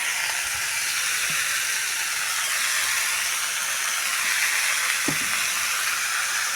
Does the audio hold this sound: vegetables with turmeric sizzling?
yes